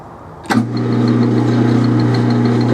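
A metal lathe spinning bar stock at slow RPM starts with a sharp clunk, then settles into a steady, fairly loud low hum with a faint repeating tick above it, with no voices.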